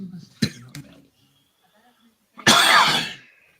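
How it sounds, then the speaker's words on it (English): A short throat sound near 0.4 s, then a loud, harsh, close cough bursts out and trails off over about a second, right after a person inhales tobacco smoke. "Sorry about the cough"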